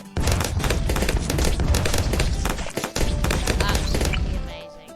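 Rapid gunfire from a semi-automatic weapon in a round-based video game, loud dense bursts almost continuous for about five seconds with one brief gap, under a busy game soundtrack.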